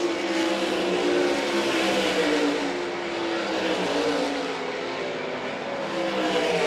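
Dirt-track race cars, the 92 of Jeff Shepard and the 35W of Tim Koenig, battle for third and fourth at Wakeeney, Kansas. Their engines roar loudly and continuously, with shifting revs as they pass close by.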